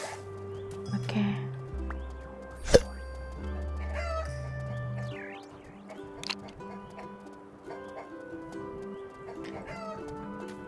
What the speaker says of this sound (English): We're gonna do click our chicken here.